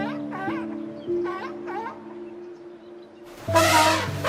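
Sea lion calls, a couple of short barking honks near the start followed by a louder, harsher burst near the end, with a steady low tone running underneath.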